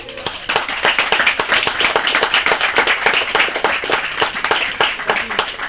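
Audience applause rings out after a question-and-answer session at The North Film Festival in New York City, a dense, steady burst of many hands clapping close by that fills the whole stretch without a break.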